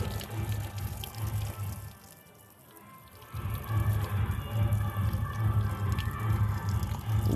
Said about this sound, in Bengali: ডুবিয়ে জল দিয়ে দিচ্ছি।